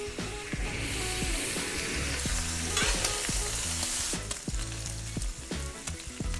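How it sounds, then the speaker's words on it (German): Bacon slices sizzle and crackle on a grill burner, a steady loud frying hiss with scattered pops and clicks close by. "nehme mir die Baconscheiben und brate die Baconscheiben noch an"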